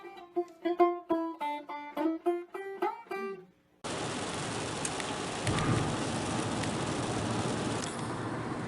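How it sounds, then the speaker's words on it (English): Steady outdoor rain hisses loudly and evenly after a few seconds of music, continuing unbroken to the end. "it's a pretty rainy, crappy day"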